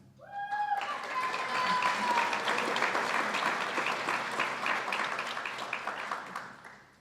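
A crowd at a police academy graduation ceremony for the LMPD breaks into applause. It begins with a brief shout or whistle, then swells into sustained clapping and cheering that slowly fades.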